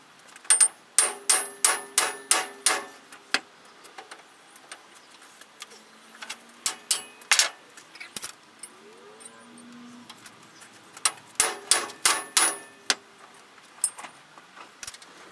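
Sharp metallic hammer blows ring out in rapid bursts of several strikes as a shaft is hammered out of a part, pausing between volleys, with a faint metallic scrape in the quiet gaps.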